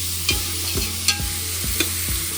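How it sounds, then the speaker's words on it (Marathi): Onions frying for mutton biryani gravy, stirred with about six evenly spaced scrapes against the pan over a steady low sizzle, heard close up with no speech. "चांगल्या प्रकारे ते हलवायचं आहे कांदा आपला लागला नाही पाहिजे खाली"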